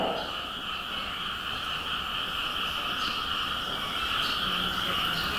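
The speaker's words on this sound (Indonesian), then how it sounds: "Jangan bunuh katak. Kenapa? Naqiquhu tasbih. Karena bunyinya itu tasbih." Frogs croak in a dense, steady chorus, a continuous buzzing layered drone with a few louder calls standing out, heard alone without speech.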